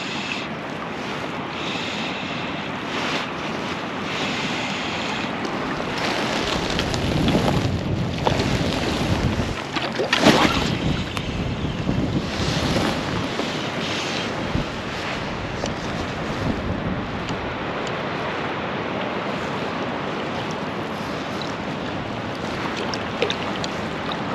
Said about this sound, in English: Wind is hellish like.